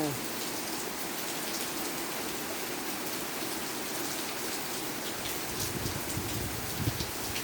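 Steady rain pours down in a dense, even hiss with scattered drops pattering on surfaces, continuing without pause throughout.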